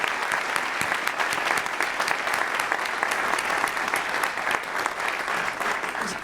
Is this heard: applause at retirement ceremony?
yes